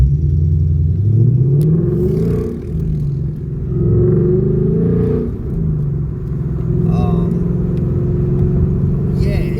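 A Ford Mustang GT engine with a Lund 93 tune rumbles and revs during a drive, its throaty exhaust rising and falling in steady surges under someone talking.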